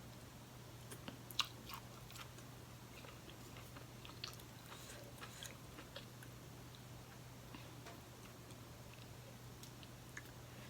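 Crunchy mushrooms in a Thai mushroom curry and larb meal being chewed close to the mic, giving faint soft crunches and scattered ticking bites over a steady low background hum.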